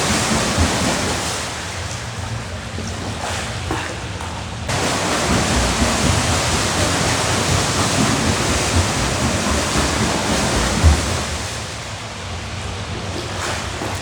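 Water splashing from kicking and arm strokes during a beginner freestyle swimming demonstration in a pool, a continuous broad wash of churning water, close and steady, with a brief louder splash near the end.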